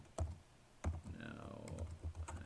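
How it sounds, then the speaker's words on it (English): Keystrokes on a computer keyboard while using a word processor on a BunsenLabs Linux desktop: a few sharp, separate clicks, then a quicker uneven patter of taps, close and clear, with a voice talking lightly underneath. "now I'm typing"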